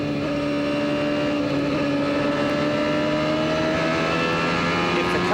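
An IndyCar at the 1995 New England 200 race gives a loud, close engine drone that stays fairly even, with its pitch rising slightly throughout.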